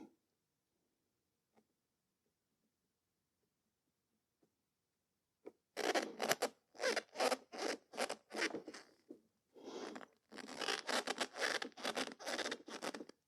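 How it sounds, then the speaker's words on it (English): Thick, dense foam being cut during an A/C receiver dryer replacement on a Mercedes 560SL: a series of short, rasping scraping strokes in steady rhythm, close and fairly loud, following several seconds of near silence. "this isn't that cheap foam either. That's the reason why it's difficult to cut."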